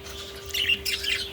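Pet parakeets in an aviary let out a quick burst of close, bright chirps and squawks over a steady background hum.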